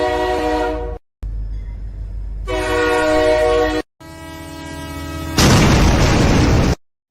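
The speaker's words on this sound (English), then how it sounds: "Rev that train up." A train engine revs loudly in harsh, droning bursts broken by abrupt silences, ending in a rough, roaring surge.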